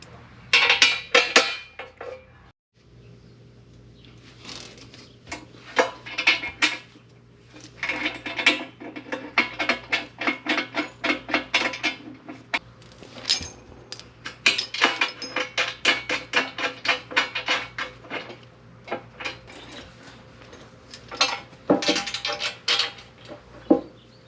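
Small metal hardware, bolts, washers and nylock nuts for a skid plate install, clinks and rattles close by in irregular bursts of sharp jingling and tapping.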